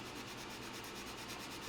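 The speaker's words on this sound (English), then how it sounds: "Go in here and do a little bit of sanding." A sanding stick rubs back and forth on a small cockpit part for a P-40F Warhawk scale model, a soft, quiet, steady scratching close by.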